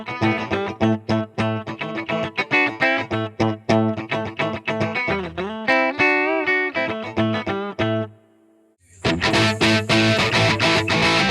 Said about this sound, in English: So the Les Paul straight in sounds like this.